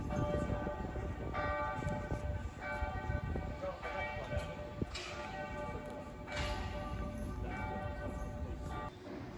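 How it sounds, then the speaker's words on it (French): Church bells ringing out across Oxford, several rounds of tolling strikes with long ringing tones that fade and recur, heard from a distance over a steady outdoor street hum. "Ici nous avons les sons de cloches dans les églises qui sont là-bas."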